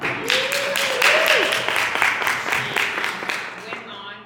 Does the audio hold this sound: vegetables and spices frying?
no